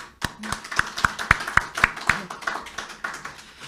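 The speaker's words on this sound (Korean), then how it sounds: "박수 한번 칠까요?" A church congregation claps at a founding thanksgiving service in Siheung, Korea, with a dozen or so separate, sharp hand claps in a loose rhythm over a few seconds, fairly close.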